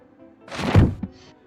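A notebook slammed down onto the ground gives a single loud, heavy thud that swells and fades within about a second, followed by a faint softer knock.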